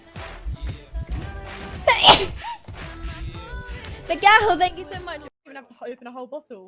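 A loud human sneeze bursts out close to the microphone, followed by a second sneezy exhale, with people chatting and reacting around it before and after.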